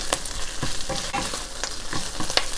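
Thai basil leaves drop into a hot pan with chicken and sizzle steadily, with soft stirring clicks and scrapes popping over the crackle, close and fairly loud.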